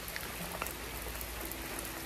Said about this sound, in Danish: Det er endnu en dag, hvor det pisser ned.